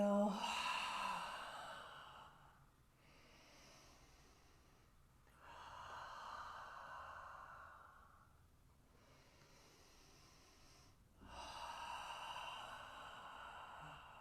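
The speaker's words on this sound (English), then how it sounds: "So inhale and exhale." Slow, deep breathing during a modified Ashtanga vinyasa and restorative yoga session, with long audible inhales and exhales alternating in an even rhythm, quiet and close with no talking.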